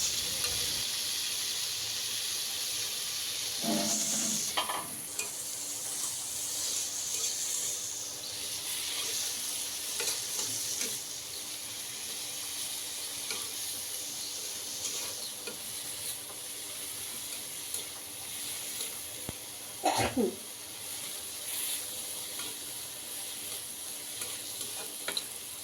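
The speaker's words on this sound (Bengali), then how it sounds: "এই ভর্তাটা ভেজে নিব, খুব ভালোভাবে ভেজে নিব" Thankuni leaf bhorta, a mashed pennywort-leaf paste, fries in mustard oil with a steady close sizzle throughout, broken by a few brief stirring scrapes; no voices.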